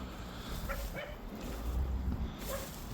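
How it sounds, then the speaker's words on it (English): The next-door neighbour's dog near a large abandoned house gives a few faint, distant yips and short barks over a steady rumble of wind noise. "Next door neighbour's dog."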